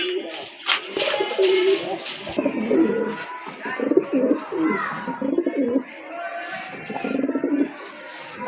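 Pigeons kept for breeding and sale coo repeatedly in low, throaty bursts throughout, close by, with crowd-like background murmur and other bird calls around them.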